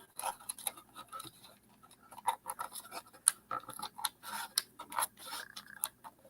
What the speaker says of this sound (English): Just tear it with my fingers.